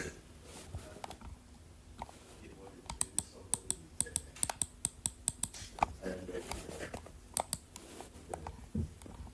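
A long series of crisp, evenly spaced clicks from a computer mouse while browsing a WordPress online store, close and fairly loud, over a soft background with some talk.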